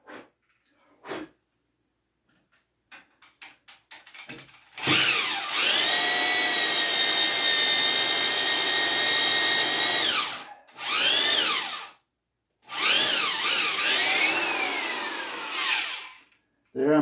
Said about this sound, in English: If it stops drilling, it means you're clogged up.